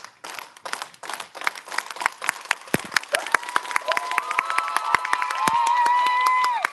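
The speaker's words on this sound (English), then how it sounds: "I'm going to go ahead and take us off with the union clap with all of our brothers and sisters." A rally crowd at a Trans Day of Visibility event performs the union clap, slow separate claps that speed into rapid clapping, then swell into loud cheering and whooping voices near the end.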